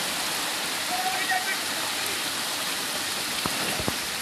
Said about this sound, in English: Typical rain in Georgia.